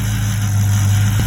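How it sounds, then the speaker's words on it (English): A 2007 Dodge Charger Daytona engine with a faulty PCV valve runs steadily and close, giving a continuous low droning idle with a faint rough, grinding edge throughout. "engine is making a horrible noise, so we're going to be replacing the PCV valve today"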